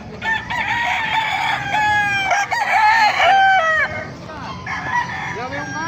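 A Sweater gamefowl rooster, about ten months old, crows loudly at a market. Overlapping crows and clucks from other chickens fill the noisy background.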